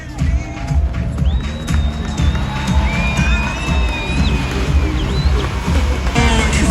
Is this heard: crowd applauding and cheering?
yes